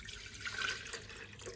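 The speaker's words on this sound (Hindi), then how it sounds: "पानी डाल देती हूँ" Water poured steadily into a vessel in a home kitchen, a soft, continuous splashing trickle heard alone at low level for about a second and a half.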